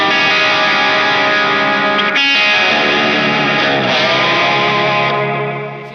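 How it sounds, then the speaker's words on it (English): Electric guitar played through a Zaphod Overdrive and an Otter's Pocket Reverb pedal: a loud, thick, distorted sustained chord that rings continuously and thins slightly as it decays at the end. "If you listen to the reverb tail, like it's quite basic, right?"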